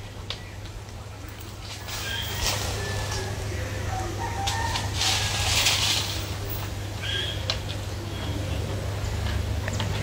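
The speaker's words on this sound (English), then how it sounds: "Birds are singing." Birds sing on a bright morning in the Jamaican bush, scattered chirps and calls ringing out over a steady low hum and soft rustle of leaves, fairly close and continuous throughout.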